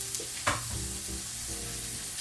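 Chicken frying skin side down in a pan over medium-high heat gives a steady, close sizzle with a few brief crackles and pops, and no voices.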